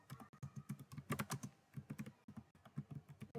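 Fast typing of code on a computer keyboard, close and clear, with crisp clustered key clicks broken by brief pauses and no talking.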